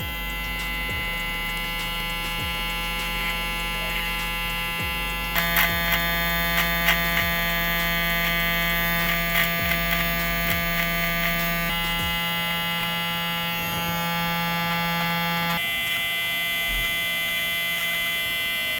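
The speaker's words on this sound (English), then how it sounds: "So now let's work at the top. Flip your trimmer like this." Electric beard trimmer buzzing steadily at close range while trimming the top of a beard, a constant whirring hum that grows slightly louder in the middle of the stretch, with no talking.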